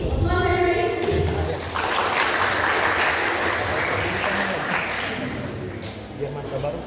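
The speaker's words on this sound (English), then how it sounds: "Applause, everybody, please." Audience of students at a university welcome event clapping: a sustained burst of dense applause, loud and close, building after a brief opening voice and tapering slightly toward the end.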